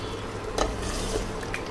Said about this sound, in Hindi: मैं इसमें 100 से 150 ml पानी डाल देती हूँ